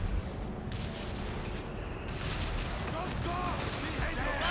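Dense gunfire and artillery blasts from a Company of Heroes 3 four-versus-four tank battle rumble continuously, with overlapping shots and explosions filling the mix at a steady, loud level.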